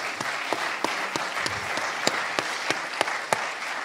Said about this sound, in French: ça s'applaudit, pardon.